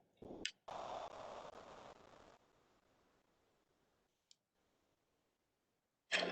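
Mouse clicks on a software screen come as a few faint isolated ticks, heard along with a brief rustle and low background hiss in an otherwise quiet room.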